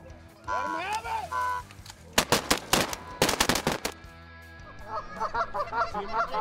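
Shotgun blasts during a Kansas goose hunt: a quick volley of sharp, loud shots in two bursts, with honking geese calls before and after and voices talking around them.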